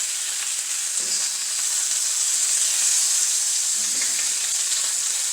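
Strips of bacon sizzle and crackle steadily in a hot pan, a bright continuous hiss with small pops, close and fairly loud, with a couple of soft clinks from handling and no talking.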